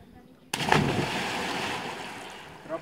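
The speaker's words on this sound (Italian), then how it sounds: "Troppi schizzi." A person dives into a cold mountain lake high in the Alps, hitting the water with a sudden loud splash that washes out and fades over a couple of seconds, with a brief voice near the end.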